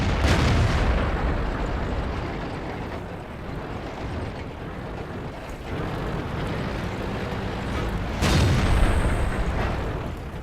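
Tank cannons boom in a World of Tanks battle around a KV-5, three heavy shots spaced several seconds apart, each a sharp blast trailing into a low rumble over steady engine drone.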